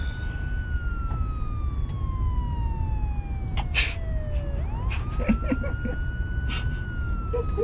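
A police car siren wails close by, one long sweeping tone that slowly falls then rises again, over a steady rumbling background with brief clatters and knocks.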